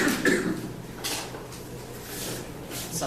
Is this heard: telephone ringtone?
no